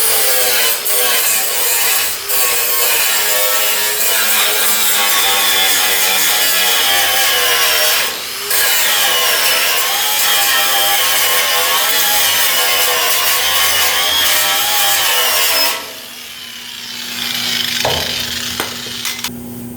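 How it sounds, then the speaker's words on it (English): Sanding disc on a power tool grinding down metal bodywork after stud welding with a dent puller, loud continuous abrasive whine with brief dips, running about fifteen seconds before easing off. "Then you change up to your sanding disc."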